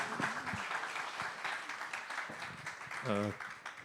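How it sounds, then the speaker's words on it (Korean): A church congregation claps at a conference opening service to welcome a pastor, fairly quiet and mixed with voices, a person speaking briefly near the end. "우리 박수로 맞이하겠습니다"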